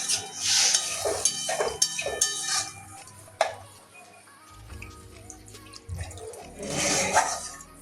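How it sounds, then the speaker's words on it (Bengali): Water poured into a pan of fish and pointed gourd curry, with splashing and pouring bursts mixed with clanks of the pan and utensils, close and fairly loud, easing off in the middle before rising again. "এবারে জল দিয়ে দেবো।"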